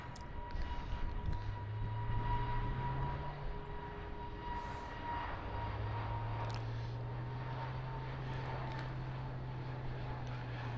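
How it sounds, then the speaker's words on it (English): Aer Lingus Airbus A320 jet departing Heathrow for Knock, a steady broad engine roar with rising and falling low drone tones held throughout, moderately loud and continuous with no talk. "we've got an Aer Lingus going out to Knock in Ireland."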